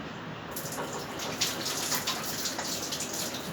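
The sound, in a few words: water tap running while washing hands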